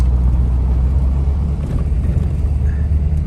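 A Ford F-250 with a 6.7 Powerstroke diesel engine drives slowly through a turn, heard from inside the cab as a loud, steady low rumble with no talk.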